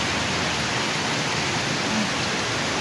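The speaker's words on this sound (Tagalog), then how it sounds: "Ang tindi ng ulan sa amin dito mga kananay" Heavy rain pours in a dense, continuous hiss, steady and close with no breaks, as floodwater rises in the area.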